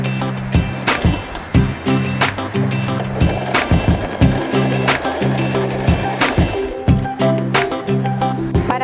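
A Janome 3016 domestic sewing machine stitches along a zipper in fabric, running in short repeated bursts of rapid mechanical chattering with brief pauses between, close and fairly loud, with no talk.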